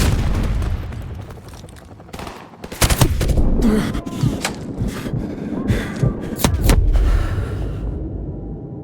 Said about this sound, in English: Open fire! Return fire